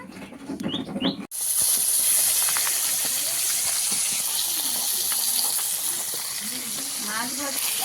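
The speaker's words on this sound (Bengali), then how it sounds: "মাছ ভাজা হয়ে চলছে প্রায় হয়েও এসছে" Fish frying in hot oil in a home kitchen: after a brief quiet moment with voices, a loud sustained hiss and sizzle starts suddenly and continues steadily, with faint voices occasionally underneath.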